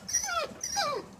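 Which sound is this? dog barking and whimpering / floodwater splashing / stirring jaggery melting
dog barking and whimpering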